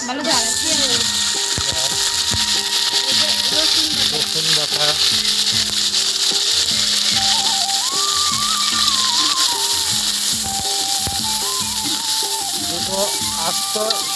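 Onion, garlic and bay leaf fry in hot oil for a mutton curry, giving a steady, loud sizzle that runs the whole time while voices talk over it.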